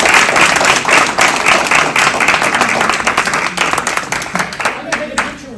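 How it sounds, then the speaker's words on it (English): An audience at an evening law school talk with a county judge breaks into loud applause, many hands clapping densely at close range and gradually thinning out over several seconds. "Big round of applause for John"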